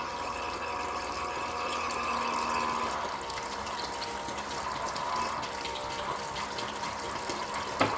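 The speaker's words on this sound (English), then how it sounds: "I'm just pouring a bunch of water inside because as you see, it keeps losing suction" Water is poured steadily into a hydroponics growing system, a continuous splashing trickle at moderate level that runs unbroken for several seconds with no talk.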